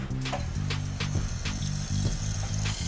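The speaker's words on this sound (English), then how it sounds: "First step, fill the pot up full of water." Tap water runs steadily into a cooking pot being filled for boiling, a continuous splashing rush with a low hum underneath, close and fairly loud throughout.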